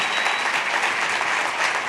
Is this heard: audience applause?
yes